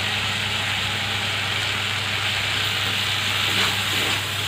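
Ground mustard paste hits hot oil in a pan while cooking drumsticks, giving a steady, even sizzle and hiss throughout, close and constant with a faint low hum beneath and no speech.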